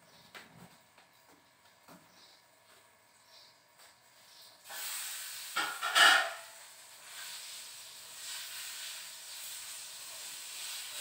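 A domestic gas stove burner gives a soft, steady hiss close by, with faint rustles and knocks before it and a brief sharper burst in the middle, then an even low hiss that carries on to the end.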